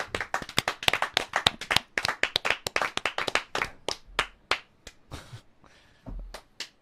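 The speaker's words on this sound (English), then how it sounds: "let's clap it up" Podcast hosts clapping together in a small studio: a fast run of sharp, close hand claps that thins into slower, spaced single claps, fairly quiet overall, with no talking over it.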